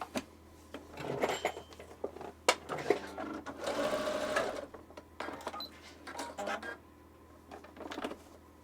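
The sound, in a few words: sewing machine running, testing repaired bobbin case thread cutter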